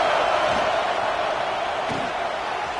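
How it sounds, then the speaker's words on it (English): College football stadium crowd roaring loudly to spur the defense toward a red zone stop, a dense, sustained wall of cheering and shouting that holds steady throughout. "here comes the noise. This crowd is trying to inspire this defense to make a big red zone stop."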